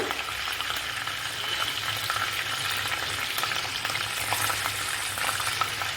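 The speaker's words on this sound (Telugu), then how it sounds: "ఈ ఆయిల్లో నాలుగైదు చిల్లీలు వేసేసుకుంటున్నాను" Dried chillies frying in hot oil make a steady, close crackling sizzle that runs on without a break and with no voices over it.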